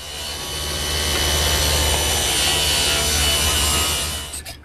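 A saw bevels the bottom edge of a vertical wooden piece for a miter saw work station, giving a continuous loud cutting roar close up that holds steady and then cuts off at the end.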